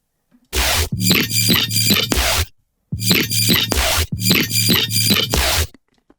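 Two phrases of punchy synthesized bass notes, each a quick run of four or five bright, buzzy hits separated by a short gap of silence.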